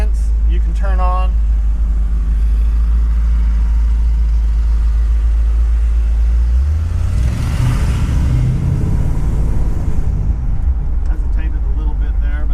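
A 1970 Chevy Suburban engine rumbling steadily while driving, with a deep low drone that shifts as it accelerates midway, heard from inside the cab with a voice talking over it.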